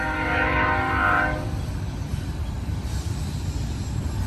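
A westbound BNSF train passes at Sullivan's Curve on Cajon Pass with a long horn blast for over a second, then a steady low rumble of rolling cars, loud and close.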